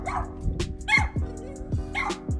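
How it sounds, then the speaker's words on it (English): A neighbors' dog barks repeatedly outdoors in a residential yard, several sharp barks with yips in an uneven rhythm, fairly close and alone without talk. "their dog decided to bark at me"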